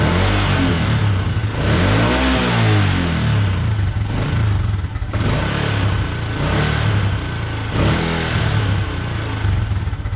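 A motorcycle engine with a sticking throttle cable revs loudly and continuously up close, rising and falling in several surging pulses as the throttle hangs before dropping back.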